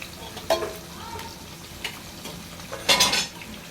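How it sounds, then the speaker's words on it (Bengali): Chitol fish from a family pond frying in a pan, with a soft sizzle under a few sharp scraping and clinking stirs, the loudest near the end, and no talk. "আজকে আমাদের পুকুরের চিতল মাছ রান্না হবে, তাই মাছ ভাজতেছি"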